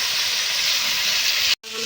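Chicken pieces fry in a pan with a steady, moderately loud sizzle and hiss, breaking off abruptly near the end.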